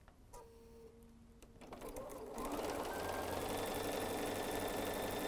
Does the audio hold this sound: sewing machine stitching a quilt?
yes